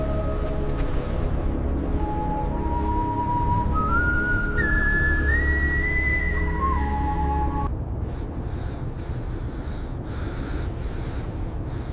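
A whistled tune, rising in steps and holding long notes, carries over steady wind and low rumble in a cold, shadowed spot on Mars beside a sulfate vein, then stops, leaving only the wind.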